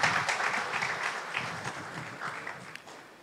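Applause from a congregation at a memorial service, a steady dense patter of many hands clapping throughout, moderately loud and filling the room with no voices over it.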